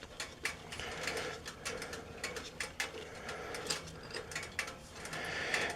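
Ratcheting clicks from a wrench loosening a bolt on a Harley-Davidson Softail, a steady run of close, crisp mechanical ticks with no talking.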